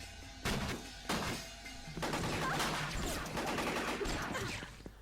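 Gunfire in the PS1 video game Fear Effect: two sharp, separate shots followed by a denser burst of rapid firing and crashing impacts, loud and close.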